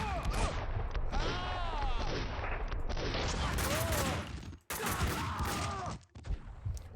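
Sustained rapid gunfire in the video game Max Payne 2, dense bursts of shots over a full game soundscape, briefly cutting out twice before resuming loudly.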